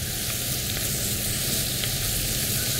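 Bacon sautéing with softened, wilted cabbage in a pan gives a steady, even sizzle held at one level for the whole stretch, close and fairly loud, with no voices.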